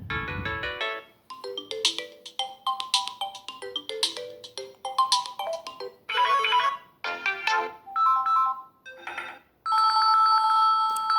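A Samsung Galaxy A12 phone's ringtone plays at full volume through its speaker, a bright melodic sequence of chiming synth notes in short phrases, loud and close with no talking.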